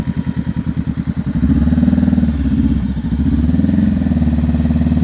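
A motorcycle practicing slow-speed riding comes to a gentle stop, its engine pulsing in a steady low thump that smooths into an even idle, loud and close with no talk.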